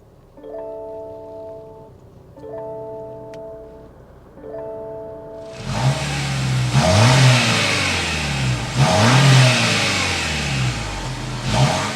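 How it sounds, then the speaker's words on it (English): Several electronic chimes sound in the cabin before a 2024 Lexus NX 350 F Sport turbo engine starts with a loud burst. Its exhaust note then swells through a few revs before settling into a steady idle. "start it up, so you can hear that exhaust note."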